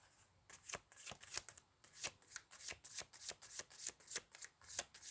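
Tarot cards are shuffled by hand in a quiet room, a steady series of soft riffling flicks and slaps repeating in an uneven rhythm for several seconds, close but faint, with no talking.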